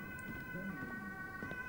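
An ambulance siren sounds outside a house, a faint steady wailing tone heard indoors beneath low background noise.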